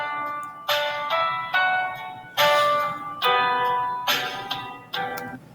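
Background backing-track music from Music First plays bright, bell-like chords in uneven bursts, each struck sharply and then fading, with no voices.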